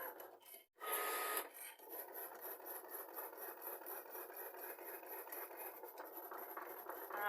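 A Cricut Joy cutting machine making a small cut, a close rasping, rubbing whir with a louder burst near the start, then a steady pulsing scrape that runs to the end.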